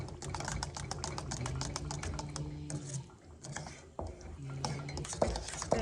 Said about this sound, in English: Really trying to show people that don't know how to stir the cornmeal